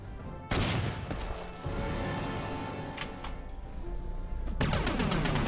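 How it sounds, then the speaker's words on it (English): Heavy, booming impacts and crashing blasts of an artillery bombardment in the strategy game Panzer Corps 2, set in a Spanish Civil War campaign at Zaragoza; a loud burst opens, a sustained rumble follows, and sharp strikes return near the end. "this artillery will eventually just kill him by just bombarding him repeatedly"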